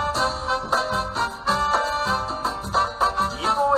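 A short burst of a song, played on a Montevideo FM radio station's ranking show. The track is dense and loud, with a steady pulsing beat and no talk over it.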